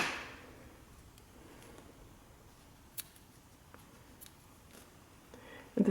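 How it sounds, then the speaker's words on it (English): Scissors snip a crochet yarn tail on a rose wreath project, a few faint, crisp clicks spaced apart in an otherwise quiet room. "you can cut this yarn tail"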